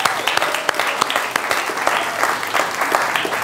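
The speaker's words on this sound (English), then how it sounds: "let's give a round of applause for that" An audience at a charity fundraising evening applauds, a steady wash of many hands clapping with a few sharper close claps standing out, moderately loud throughout with no talk over it.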